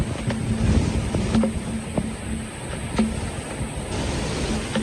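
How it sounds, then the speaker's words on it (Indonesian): Steady roar of a waterfall in a valley, a broad continuous rush of falling water with a few faint knocks and thumps over it. "Jadi kita hanya lewat depan air terjun aja, gitu."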